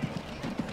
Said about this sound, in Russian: Вот еще кто-то здесь едет на лошадке.